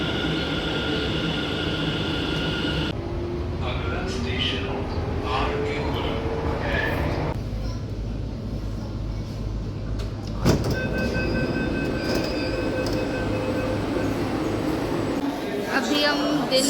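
A Delhi metro train at Delhi Gate station, with a steady rumbling roar of the running train, a door opening or closing and electronic tones, while people talk over it.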